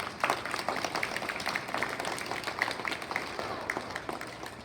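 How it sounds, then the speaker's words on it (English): Applause for teachers at a school gathering: a steady patter of clapping from a group, moderately close, lasting several seconds without talk. "Let's give a round of applause for our teachers."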